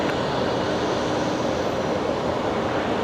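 An Airbus A319 moves at Brisbane Airport at night, heard as a constant broadband jet roar at a distance, steady and unbroken throughout.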